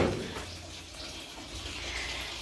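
Water being swept or squeegeed across a wet kitchen floor during a deep clean, a steady soft wash and splash that runs quietly and continuously throughout.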